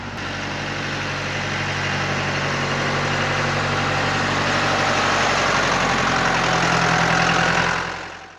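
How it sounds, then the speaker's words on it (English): A tractor engine drones steadily and loud for several seconds, a low knocking idle-like rumble that stays close before cutting off at the end. "Here comes the tractor."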